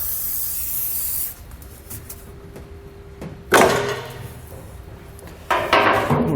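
Aerosol lubricant sprays onto an exhaust pipe hanger under a 2018 Infiniti Q50, in short loud hissing bursts with quiet pauses and a clink between them.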